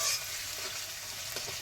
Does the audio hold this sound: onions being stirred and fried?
yes